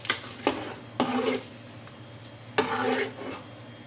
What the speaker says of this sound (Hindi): हरा धनिया डाल देंगे, उसको अच्छी तरह से मिक्स कर देंगे।